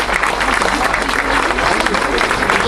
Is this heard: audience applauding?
yes